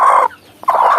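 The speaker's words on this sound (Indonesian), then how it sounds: "Ketika para indukan mengeram seperti ini adalah proses alam yang terjadi pada para betina dan indukan ayam" A free-range village hen (ayam kampung) brooding its eggs, giving loud close clucks in two bursts split by a brief pause, with no talking.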